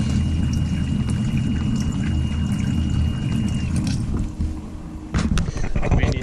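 Water running from the hot-side faucet of an RV travel trailer being winterized, a steady close rush with a brief dip near the end before clattering resumes; a voice is also present.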